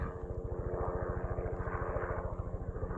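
A low-flying tour helicopter passes over a campsite in red rock country, its rapid rotor thumping steady and loud with an engine drone, no voices.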